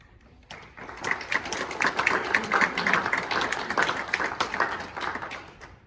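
Theatre audience bursts into applause at a staged play, dense and steady clapping rising after a quiet start and holding loud throughout.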